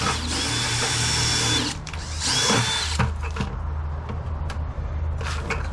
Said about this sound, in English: my next step is to drill some holes in the buckets. 1/2-inch holes, just using a general purpose bit.